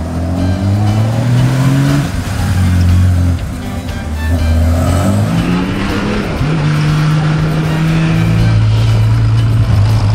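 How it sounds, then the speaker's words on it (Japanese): A Honda CBX 1000cc air-cooled six-cylinder twin-cam 24-valve motorcycle runs on the road, its smooth engine note stepping up and down through gear changes, loud and close, continuous throughout without speech. "じゃあエンジンかけてね、はい、ちょっと走ってみようかなと思います。"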